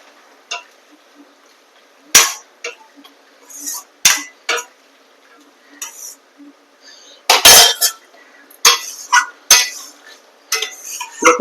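A metal ladle mixes spice paste into a pot of curry with taro and fish, giving scattered sharp clinks and scrapes in irregular bursts, close, with brief sounds between.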